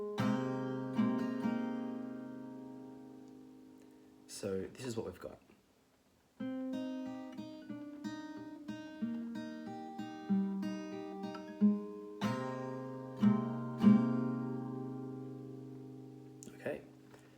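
Gently strummed guitar chords from a song's intro ring out in sustained, even strokes, with a short spoken remark near the start and a brief pause midway.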